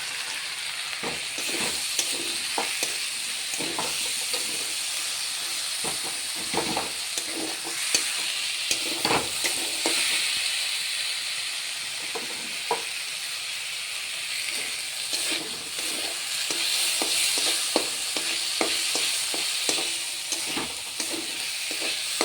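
Moong dal, fried and washed beforehand, is stirred into a sizzling spice paste for a vegetarian spinach dish. A steady close-up hiss of frying runs throughout, broken by frequent scraping and clacking strokes of the spoon.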